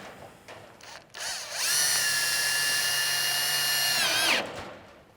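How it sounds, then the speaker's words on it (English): A power drill drives a roofing screw with a rubber washer through gutter mesh on a Trimdek metal roof. It gives a loud, close, steady whine that ramps up, holds for about three seconds, then winds down. "So I'm just going to get my screws and screw in here."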